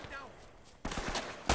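Gunfire in the action game Uncharted 3 breaks out suddenly after a quiet stretch, loud noisy bursts ending in a sharp shot, with a voice underneath.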